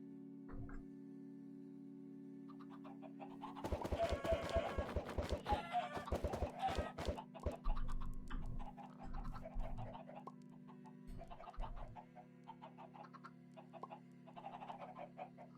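Chickens cluck and squawk in a modded Minecraft 1.12.2 world, a dense flurry of overlapping game clucks with a crow-like call, over a steady low hum and faint game music, then thinning to scattered clucks.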